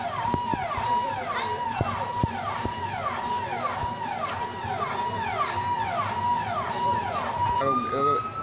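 An ambulance siren wails nearby in rapid, repeating up-and-down sweeps over a steady tone, loud and continuous, with faint voices underneath.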